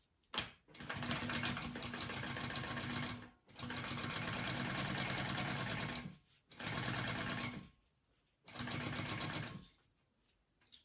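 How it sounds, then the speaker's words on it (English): A sewing machine stitches a lining onto a zipper panel in four steady bursts of rapid mechanical whirring. Each burst is separated by a short pause, and the machine is close and loud with no talking. "I will sew that at that bigger seam allowance, whatever that is for you, on this zipper panel."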